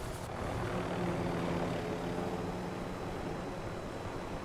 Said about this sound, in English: supply runs with 2 helicopters